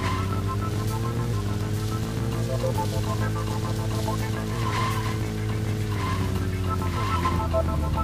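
A car in the Deadly Premonition video game drives hard with a droning engine while tires squeal and skid through a sharp turn, the engine pitch rising and falling.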